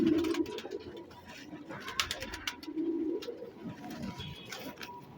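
A pigeon coos softly in low, throaty bursts, repeated a few times, with light rustling and clicks around it.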